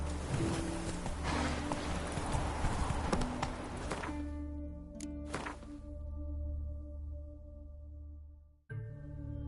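Roach, the horse in The Witcher 3, clip-clops along at a walk with steady, fairly close hoof strikes over a constant low background hum, the hoofbeats falling away near the end.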